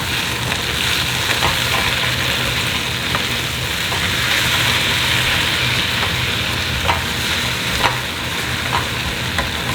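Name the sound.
JUST Egg plant-based egg frying in a pan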